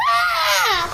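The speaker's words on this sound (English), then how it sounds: "This baby up here screaming." A baby in a house cries and screams in one loud, sustained, wavering wail that rises and slowly falls, close by with no talk over it.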